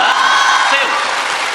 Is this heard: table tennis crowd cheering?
yes